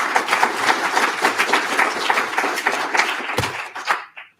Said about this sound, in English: Round of applause for Nicholas.